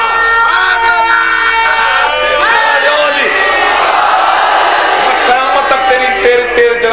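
A large majlis audience chants religious slogans together, a loud sustained mass of voices rising and falling in unison, with a lead voice calling out over the crowd.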